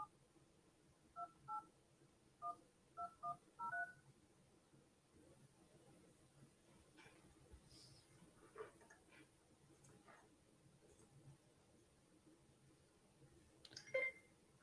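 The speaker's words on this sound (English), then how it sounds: "We're going to see if it dials." Old telephone dialing a number, a quick series of clear touch-tone beeps in short bursts, followed by faint room noise and scattered small clicks, quiet overall.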